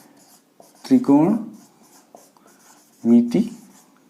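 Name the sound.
writing on a board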